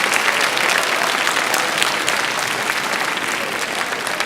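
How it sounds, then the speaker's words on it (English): A large audience at a school evening event claps loudly and continuously for families, a dense, even wash of applause that holds steady throughout. "would you please give these very important people in your lives a round of applause"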